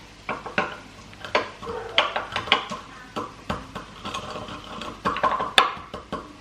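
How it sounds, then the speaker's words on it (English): Whole cumin seeds being crushed for butter chicken, heard as a run of sharp, irregular knocks and scrapes of a utensil against a dish, close and moderately loud, with no talking. "I'm just gonna be using the jeera and crushing it in a bit."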